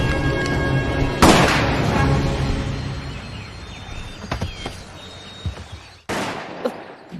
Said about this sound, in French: C'était un coup de feu?